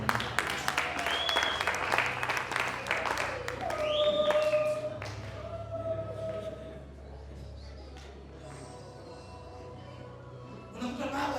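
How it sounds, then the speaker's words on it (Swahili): Applause for mothers at a Swahili-speaking gathering: a crowd claps steadily and loudly, fading to lighter scattered clapping, then swelling briefly again at the end, with a whistle-like tone and faint voices mixed in. "Pia ni makofi ya mama."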